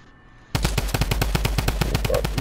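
Automatic gunfire in a multiplayer squad shooter video game, a loud rapid burst of evenly spaced shots starting abruptly after a quiet moment and continuing without pause.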